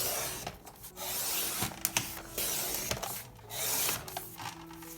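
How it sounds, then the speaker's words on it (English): Paper trimmer slicing printable envelope pieces, a few short rasping cutting strokes separated by brief pauses, close and fairly quiet. "So I cut out the main pieces with my trimmer"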